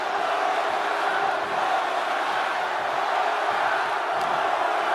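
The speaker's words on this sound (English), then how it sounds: "With every move you make, you hear this capacity crowd following you on that journey." A capacity arena crowd in the wrestling video game WWE 2K25 roars and cheers in a dense, continuous wall of noise, with shouts rising out of the steady din.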